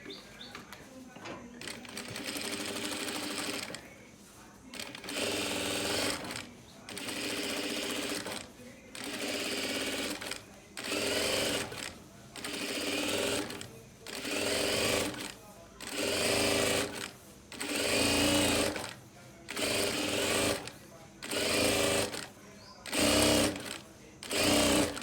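A sewing machine stitches a dress in repeated bursts of rapid whirring, each lasting a second or two with short pauses between, close and clear, with faint birdsong behind.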